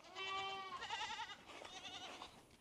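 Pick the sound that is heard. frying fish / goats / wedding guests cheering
goats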